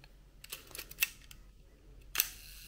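A 35mm film SLR camera fires twice with sharp mechanical clacks as its mirror flips up and the shutter releases, close and distinct against a quiet background, with small handling clicks in between.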